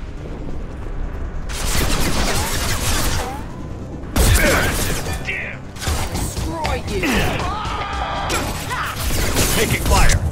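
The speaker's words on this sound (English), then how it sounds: "Taking fire!" Heavy gunfire and crashing combat noise in Mass Effect 2, loud and sustained in dense bursts across the whole stretch, with a voice speaking over the fighting.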